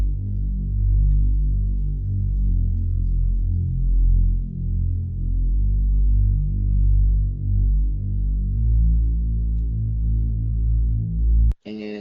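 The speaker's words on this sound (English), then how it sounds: "I believe this is a Reese bass." A Reese bass synth in an ambient beat holds a deep, thick, sustained low tone with a slow wavering detune. It plays alone and steady for about eleven seconds before cutting off abruptly.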